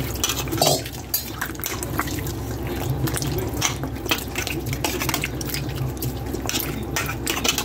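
Peeled bottle gourd is rinsed in water, giving continuous splashing and dripping close by with occasional light clinks of a bowl or utensil, no voices.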